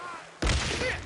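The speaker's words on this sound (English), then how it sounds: "Watch out! Grenade!" A grenade in Days Gone goes off after a quiet lead-in, one sudden loud blast that fills the low end and then trails off into debris and rumble.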